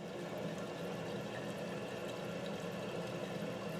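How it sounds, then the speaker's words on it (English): A steady, even rush of water hisses and hums without a break as a newly replaced toilet fill valve refills the tank, close by with no voices. "now you can see the water level rising and the fill valve is going"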